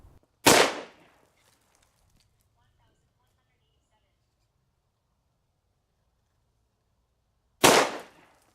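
Two sharp, loud handgun shots from a .357 Magnum or 10mm pistol, several seconds apart, each a sudden close crack with a brief decaying echo and near silence between.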